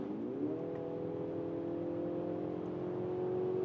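A BMW X3 mid-size SUV accelerates hard on the road, its engine a smooth rising drone that settles into a steady, calm hum at speed, with no voices.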